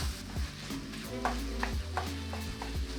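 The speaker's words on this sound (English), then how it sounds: "add in your ground meat of choice. Break it up thoroughly and cook until brown." Ground meat being broken up and browned in a pan with olive oil for a Japanese-style keema dry curry: repeated scraping and stirring strokes over a steady background sizzle and a low hum, close by with no talking.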